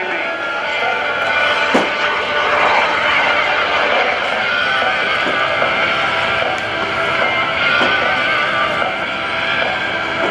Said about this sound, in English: 7 years now doing air shows with the Super Salto jet sailplane, his second such sailplane.